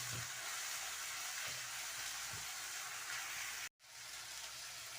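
Freshly ground garlic and ginger with finely chopped green chili fry in a pan, giving a steady, bright sizzle with soft stirring bumps and a brief dropout near the end.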